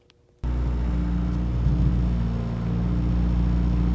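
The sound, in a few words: Chevrolet Cobalt SS engine revving as gas is given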